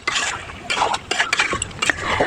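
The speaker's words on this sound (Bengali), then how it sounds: "এ পর্যায়ে আমি এখানে ভেজে রাখা আলুগুলো অ্যাড করে দিলাম।" Fried potatoes go into a pan of mutton curry. Quick clattering knocks and scrapes of a spoon against the pan sit over a soft sizzle, close by and with no voices.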